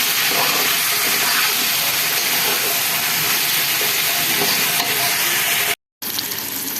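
Vegetables added to jackfruit seeds sizzle loudly in a hot pan, a dense continuous frying hiss with stirring scrapes, broken only by a brief dropout near the end.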